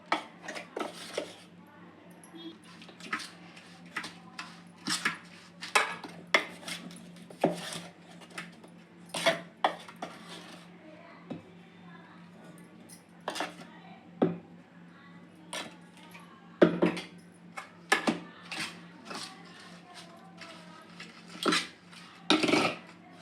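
Powdered rock sugar is added to cooled rava puttu and stirred in, producing soft scraping and clinking of a spoon against a bowl in irregular bursts, fairly quiet and close, with no talking.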